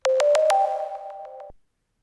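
Several short synthesized tones strike in quick succession, then hold a steady electronic pitch with a reverberant tail before cutting off sharply.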